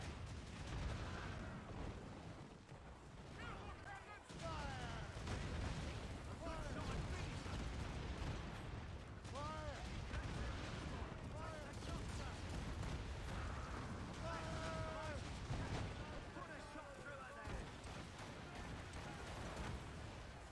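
Enemy ship cannon fire in the game Assassin's Creed Rogue, with deep booms and creaking timber in a continuous naval battle din. Crew voices shout throughout.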